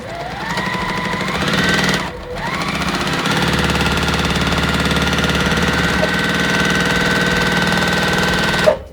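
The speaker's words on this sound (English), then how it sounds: "we're going to be sewing down the entire length of our strips here" Sewing machine stitching long quilt fabric strips with a quarter-inch seam, a steady close mechanical whirr that pauses briefly, then runs on continuously before stopping.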